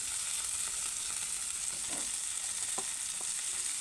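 Drumsticks cook into a masala fry in a hot pan, sizzling steadily with a constant hiss while a spoon stirs them, making a few soft scraping clicks, close up and with no talking.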